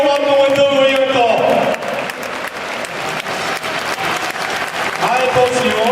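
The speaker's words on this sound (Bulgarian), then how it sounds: "Аплодисменти за Явор!" Audience applause fills the room continuously, dense and fairly loud, with a voice speaking over the clapping at the start and again near the end.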